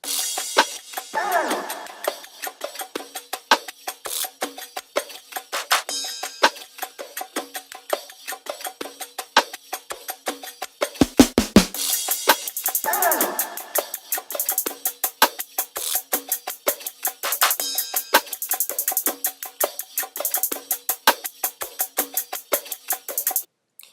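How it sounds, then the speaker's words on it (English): Busy background drums from the Ableton stock library play a dense, rapid pattern of crisp hats and percussive hits with occasional swelling fills and a brief cluster of deep thumps midway, all without voices. "And then we have our background drums"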